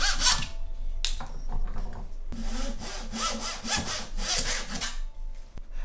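Hand saw cutting wooden kerfing strip for an acoustic guitar, a close series of rhythmic rasping strokes after a couple of brief initial scrapes, steady and fairly loud.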